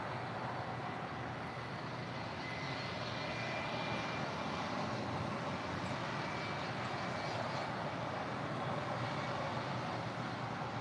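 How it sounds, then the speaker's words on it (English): A United Boeing 757-300 airliner arriving at LAX from Denver, a steady broad jet engine roar from a distance that holds even and continuous throughout, with no voices. "That is United 1093 coming in from Denver on a 757-300."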